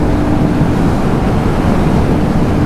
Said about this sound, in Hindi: भाई इतना तेज पुल लग रहा है ना हवा का